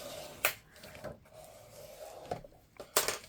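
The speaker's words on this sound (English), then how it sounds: "Give that a good burnish inside and out." Folded card stock on an autumn greetings album page is burnished inside and out: a few short, dry rubbing swipes with a rasping edge, close and fairly quiet, with no talking.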